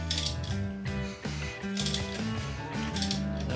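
An engine is turned over slowly by hand with its lifters moving, giving a close, steady mechanical whirring and ratcheting with faint clicks throughout.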